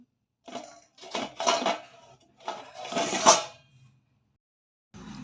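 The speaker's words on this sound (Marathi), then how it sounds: "तर हे खिसून घेते मी" Half a cabbage is being grated on a hand grater in a series of rough scraping strokes, several close bursts with short pauses between them. The last burst is thumped off, with no talking.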